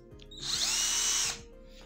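A cordless rechargeable drill screwdriver runs at speed for about a second, a loud steady whine with sharp start and stop, close up, with faint clicks around it and no talking.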